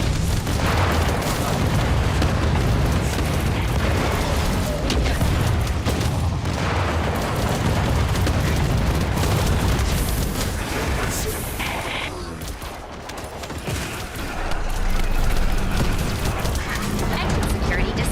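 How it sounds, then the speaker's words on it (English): A retrieved sword sets off an explosion in The First Descendant, a heavy booming rumble that sustains through much of the stretch, dips briefly, then surges again, with a voice talking over it. "when you retrieve it, it'll cause an explosion where it was"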